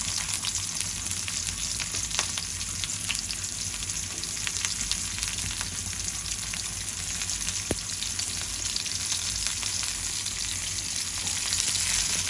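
Mustard seeds, onion and curry leaves fry in oil with a continuous, even hiss and crackle that stays close and steady throughout, with occasional faint pops.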